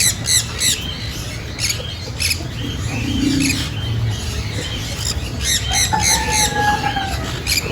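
Squawks and chirps from a tamed breeder pair of birds, a male and female from a home breed, ring out repeatedly over a steady low background hum, fairly close and moderately loud.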